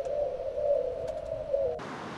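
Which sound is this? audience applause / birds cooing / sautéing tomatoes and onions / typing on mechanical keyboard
birds cooing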